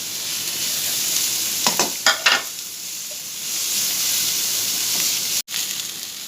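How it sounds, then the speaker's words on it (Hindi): Four chopped small onions sauté in about two spoons of oil in a pan, a steady close sizzle and hiss running throughout, with a few brief stirring scrapes early on. "इसमें ये मैं 4 छोटे प्याज चॉप करके इसमें डालकर इसको सौते कर लूँगी"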